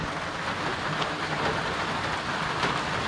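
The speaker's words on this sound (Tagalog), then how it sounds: "Ayan naman yung ulan." Steady rain pours down in Bataan, Philippines, a dense continuous hiss of drops on surfaces, loud and even throughout with no break.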